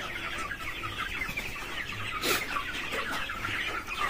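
Chickens cluck steadily on a poultry farm crowded with chicks, a dense, continuous flock chatter close by with brief louder calls rising out of the mix.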